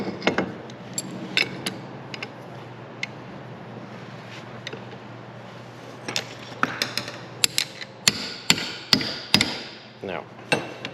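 A hammer tapping a shallow socket into place on a Peterbilt cabover truck under restoration, a series of sharp metallic strikes, sparse at first then quicker and louder toward the end, over a low steady hum.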